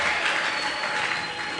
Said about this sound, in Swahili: Shangilia neno la Bwana kwa makofi na vigelegele.